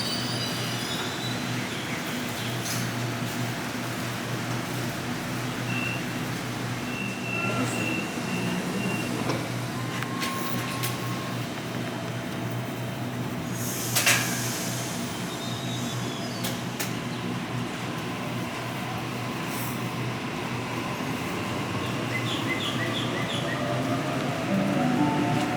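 Trains run through Blacktown station in stormy weather, with a continuous rail rumble, high wheel squeals and a louder burst around the middle, under a steady wash of rain.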